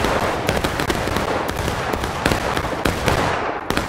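Rapid, crackling gunfire from the Civil War–era video game War of Rights, many sharp shots overlapping in a dense, continuous volley with scattered louder reports near and far.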